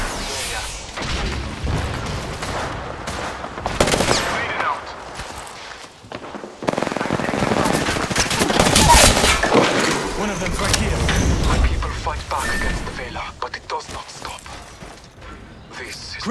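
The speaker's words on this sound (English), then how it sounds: "I am taking fire. Getting shot at." Gunfire in the Apex Legends video game, with repeated shots and booming bursts heard over a continuous stretch amid game mechanisms and effects, under in-game character voices.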